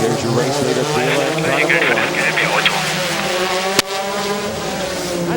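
GT sports cars roar past at the 2002 Miami American Le Mans Series race, engines loud and continuous with shifting pitch, a sharp burst near the end, under steady commentator speech.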